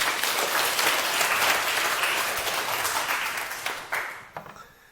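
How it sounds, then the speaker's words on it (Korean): An audience at a Korean lecture claps together in a steady wash of applause that swells early, then thins and fades out over a few seconds, with no voices over it. "박수 한번 치세요"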